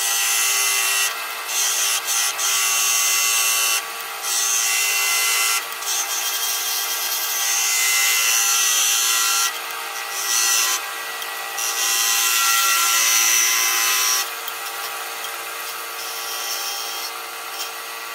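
A wood lathe turns a wooden pipe, holding a steady high whine with rubbing and scraping as the tool cuts, broken by short pauses and changes in pitch, loud and close throughout.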